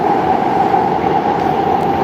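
A Warsaw metro train in motion heard from inside the car, with a steady loud rumbling roar and a constant whine, continuous and close throughout.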